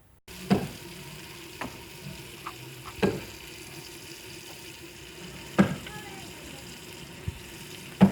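Red chili drops into a hot pan for pumpkin and lentil salan, sizzling steadily with several sharp crackling bursts and clinks scattered through a constant low frying hiss, close by.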